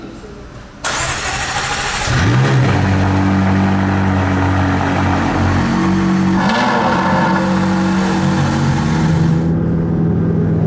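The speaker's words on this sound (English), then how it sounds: "So we're going to start them up. We should have two quite nice cold starts in the garage here" A McLaren 650S Coupe and a Porsche 991 GT3 RS cold-start inside a garage: a sharp starter catch, then loud, close engines rev and settle into a high, rumbling idle that fills the space.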